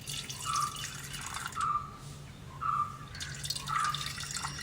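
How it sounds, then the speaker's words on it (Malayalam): Tea water is poured into an old bowl, splashing and trickling close by in four short bursts with brief pauses between them. "ഞാൻ തേയില വെള്ളം നമുക്ക് ആവശ്യമായിട്ടുള്ളത് ഒഴിക്കുകയാണ് കേട്ടോ."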